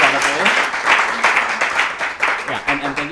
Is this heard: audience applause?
yes